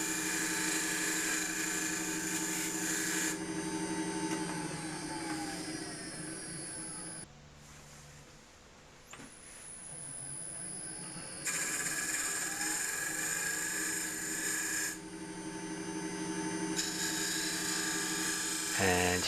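A wood lathe spins an elm tealight holder while a chisel shapes a sharp shoulder on a raised band, giving a loud, steady high whine with harsh cutting bursts that briefly drop away mid-cut before resuming.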